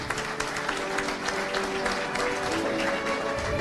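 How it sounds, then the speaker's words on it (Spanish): A crowd applauds at a graduation ceremony for a diploma course in radio, television and digital media, honouring a participant named Herbert. The dense, steady clapping fills the room for the full few seconds. "Un aplauso para Herbert porque estuvo en cada una de las clases todo el día."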